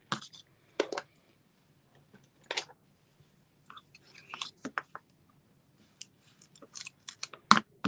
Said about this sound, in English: I'm just using a gift card holder to just tear that off.